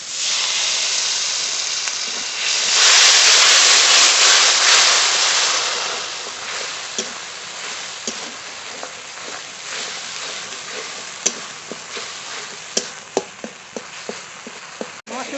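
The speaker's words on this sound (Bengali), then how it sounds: "একটু জল দিয়ে ভালো করে কষিয়ে নেব জল" Bengali rita fish curry masala with mustard-poppy paste and a little water, sautéed in a pan, producing a loud continuous hissing sizzle that gradually eases, with scattered light taps of stirring toward the end.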